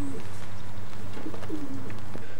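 Racing pigeons cooing inside a loft, a low steady throaty coo rolling continuously with a few brief higher calls, close by and without speech.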